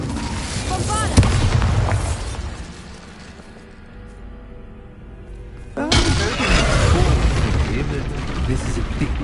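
A Bombarda spell in Hogwarts Legacy goes off as a sudden heavy blast with crackling debris. It follows an earlier impact and a quieter lull, with a voice speaking over the game sounds.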